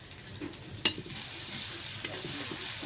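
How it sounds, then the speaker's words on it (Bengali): Ginger, garlic and spices fry in oil for a chicken curry, a low steady sizzle with a sharp scrape of a spoon against the pan near the start and another softer knock later. "দেখুন ফ্রাই চলছে এখন খুবই সুন্দরভাবে"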